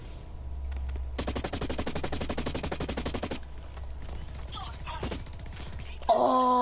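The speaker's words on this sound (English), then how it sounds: "Oh yeah, he's using SMGs." Rapid submachine-gun fire from a video game rattles in a dense, loud burst of about two seconds, followed by scattered softer shots and mechanical clicks, with a sharper metallic sound at the end.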